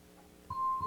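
A quiz show buzzer at the Long Beach Centennial Challenge Bowl: a steady electronic tone sounds for about a third of a second, then a brief, louder burst closes the moment.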